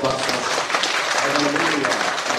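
A crowd at a Korean Christian forum claps for a speaker, dense applause heard briefly with voices mixed into it.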